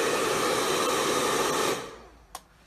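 A 2200 W hair dryer powered through an inverter roars with a loud, steady blowing noise. It then cuts off and winds down, followed by a single small click in the quiet.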